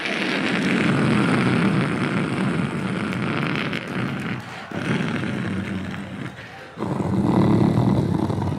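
A comedian imitates airplanes flying over, voicing a loud, roaring, breathy whoosh that swells and fades in waves, with brief breaks between passes.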